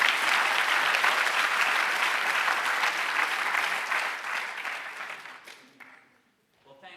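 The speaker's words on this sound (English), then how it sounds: "let's all give a nice, warm round of applause" A conference audience gives a warm round of dense, sustained clapping that fades out over the last two seconds.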